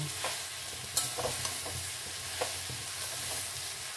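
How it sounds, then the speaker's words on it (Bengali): Food cooking in a pan gets stirred, with scattered scrapes and taps of a utensil over a soft steady sizzle. "খুলে নিয়ে ভালো করে আবার নাড়িয়ে নেব।"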